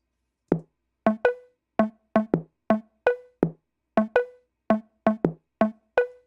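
Crisp, resonant tabla strokes land in a bouncy pattern, about fifteen hits over several seconds, close and clean with silence between them.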